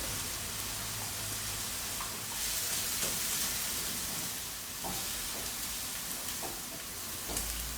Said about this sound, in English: Scramble your egg.